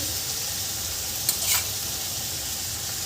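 Radish leaf bhaji being stirred in a pan after roasted peanut powder is added, giving a steady soft sizzle with a couple of brief scraping stirs near the middle, no voices.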